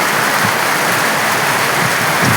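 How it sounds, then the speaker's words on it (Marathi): Heavy rain pours down in a Marathi village during Gudi Padwa, a loud, dense and continuous hiss with no break. "गुढीपाडव्याला मोठा पाऊस चालू आहे"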